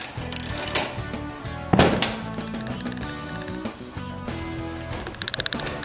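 A ratchet clicks rapidly while a rear brake adjuster nut is backed off a Honda C70 motorcycle, close-up bursts of metallic ratcheting with a louder clank near the middle, no talking.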